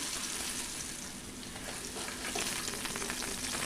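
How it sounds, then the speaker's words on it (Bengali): Potatoes fry in oil in a wok, a continuous dense sizzle heard up close with faint crackles and stirring scrapes throughout. "দেখো আলুটা কিন্তু বেশ ভালো করে লাল লাল করে ভাজা হয়ে গেছে"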